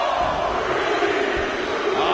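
Wrestling arena crowd at the WWE Royal Rumble roaring and cheering loudly and steadily throughout, a dense wall of voices with no clear pauses.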